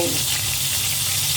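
Garlic frying in hot oil for a Filipino pork menudo, a steady close sizzle with faint stirring running evenly through the short stretch, no voice over it.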